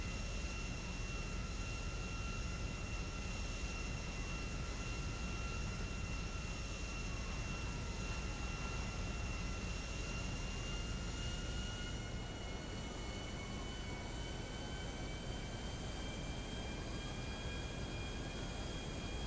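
A jet plane's engines roar steadily in GTA 5, a constant broad whine with slowly shifting tones and no talking, holding at the same level throughout.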